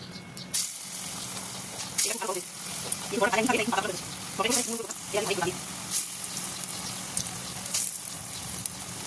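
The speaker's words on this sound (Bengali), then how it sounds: "আর এই যে কড়াই তেল বসিয়ে দিয়েছি, বড়া কটা ভাজবো।" Lentil and gram dal fritters with onion, chilli and garlic sizzle in hot oil in a wok, a steady frying hiss with bursts of bubbling as batter drops in, while someone talks nearby.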